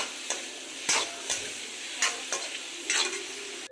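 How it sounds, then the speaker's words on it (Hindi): Paneer cubes being stirred and fried in a pan, a constant sizzle broken by several distinct spatula scrapes and taps at irregular intervals, close up without talk. "हल्के हाथों से इस तरह से पनीर को फ्राई कर लें।"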